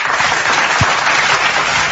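Audience applause at a religious talk event, a dense, even wash of many hands clapping at steady loudness throughout.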